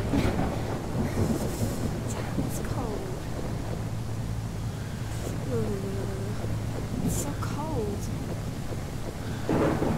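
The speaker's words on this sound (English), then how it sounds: "The ambient sound, the rain, the thunderstorm, is super loud in comparison to the voice actors." Steady, heavy rain and rumbling thunder fill the scene in the video game County Hospital, with quiet voice acting faintly audible underneath the storm.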